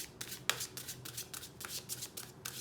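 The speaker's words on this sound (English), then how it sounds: "One more shuffle." Tarot cards are shuffled by hand at close range, producing repeated crisp riffling bursts with short pauses between them.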